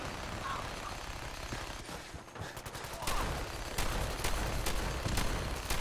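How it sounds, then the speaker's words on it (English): Gunfire in the Fallout 4 video game during a settlement raid, with a volley of sharp shots and bursts rising in intensity and repeating over steady background noise. "gunfire comes from somewhere"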